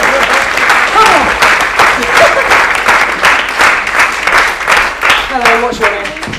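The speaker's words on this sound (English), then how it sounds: "give them a round of applause" A theatre audience at a young magician of the year final breaks into sustained, dense clapping that holds steady throughout, with a few voices rising over the applause near the end.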